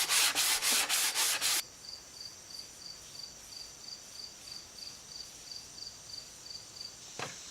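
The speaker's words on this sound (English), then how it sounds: "in between each coat, I sanded with 220 grit sandpaper" Hand sanding of a wood finish with 220 grit sandpaper on a reclaimed-wood bathroom wall cabinet, heard as about six quick, loud scrubbing strokes at the start. A quiet, steady chirping continues alone afterward.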